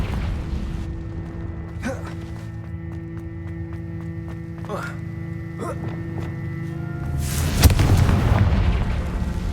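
A Confringo blasting spell erupts in Hogwarts Legacy as a sudden loud burst near the end, rumbling over a steady layer of droning game music and intermittent whooshing effects.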